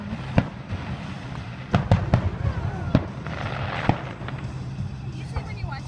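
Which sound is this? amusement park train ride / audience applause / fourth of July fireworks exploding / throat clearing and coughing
fourth of July fireworks exploding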